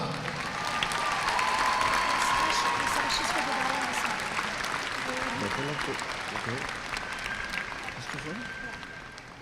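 A crowd at a Cigarroa High School graduation applauds the top scholar, a broad wash of clapping with some cheering that swells early and slowly tapers, while voices and tonal sounds carry through it.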